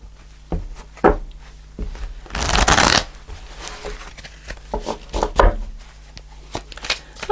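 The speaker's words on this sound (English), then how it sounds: "I'm going to do one more shuffle." A deck of tarot cards riffled and shuffled, several quick flurries with one long loud riffle in the middle, close up with soft taps and handling between.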